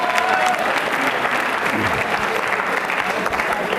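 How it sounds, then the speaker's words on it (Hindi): Loud, sustained audience applause at a law college quiz show in India, dense clapping throughout with a voice faintly present beneath it. "तालियां बजाइए जोरों से।"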